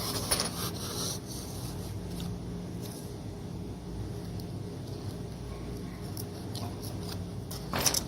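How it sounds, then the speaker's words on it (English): A bench scraper pushes and drags through soft salt dough on a work surface, giving a steady, close rasping scrape that runs almost unbroken for several seconds with a few sharper scuffs. "we're going to use that bench scraper"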